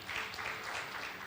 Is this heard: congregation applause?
yes